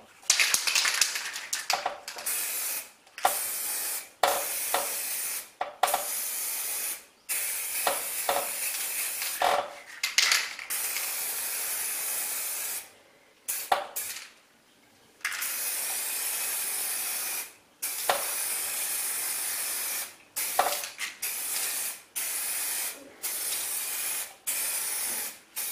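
Repeated bursts of Zinsser Cover Stain stain-blocking primer spraying from an aerosol can, short hissing blasts separated by brief pauses, close and loud throughout.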